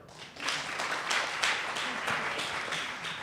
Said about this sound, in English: clap your hands even harder